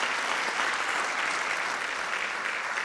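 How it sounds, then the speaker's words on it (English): Applause from a research day audience at a faculty of management and law event fills the space, dense and steady, with no break in it. "I think we should also clap hands for ourselves"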